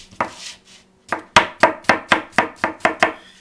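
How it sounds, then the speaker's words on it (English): A knife chops apple slices on a cutting board for muffin batter: a couple of soft cuts, then a steady run of about nine crisp, evenly spaced chops, close and clear with no talking. "being very careful not to cut your fingers, chop them up in slices"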